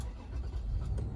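A Toyota Land Cruiser GX-R engine runs briefly, a steady low rumble close by with no talk over it.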